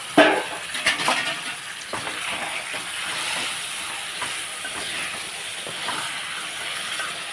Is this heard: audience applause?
no